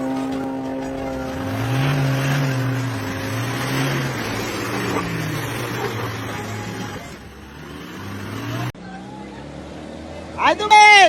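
Car accelerating along a muddy rural dirt road, engine note rising and falling loudly with revving, while excited voices talk and shout over it throughout.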